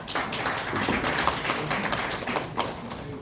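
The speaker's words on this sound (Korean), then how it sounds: "큰 박수로 환영해 주시기 바라겠습니다" A forum audience claps to welcome a lawyer presenting on the legal status of North Korean defectors; a moderate, somewhat sparse round of individual hand claps with audible separate taps, staying fairly even throughout.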